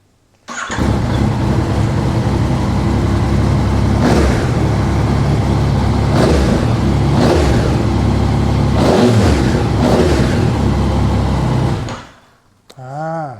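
A 2016 Yamaha MT-09 motorcycle engine idles loudly with a rumbling exhaust, then revs sharply several times in quick bursts before cutting off near the end.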